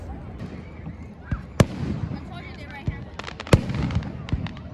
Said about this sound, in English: we gotta get some of the fireworks